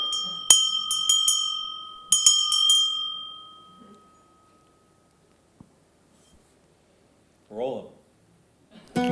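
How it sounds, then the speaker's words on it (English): A bell rings in two quick clusters of bright strikes whose tones linger and fade. A voice speaks faintly near the end. "Let's ring that bell again, absolutely."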